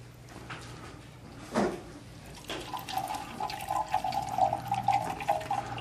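Six quarts of liquid ice cream base pour into a one-gallon container, a soft, steady close gush that rises and fills out, with no voices.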